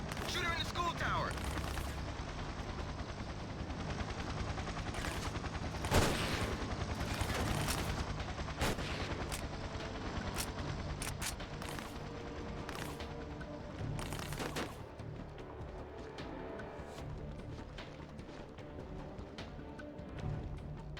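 Gunfire in the Xbox shooter Battlefield 2: Modern Combat, sharp bursts and cracks scattered over continuous game noise, loudest around the middle, with players talking throughout.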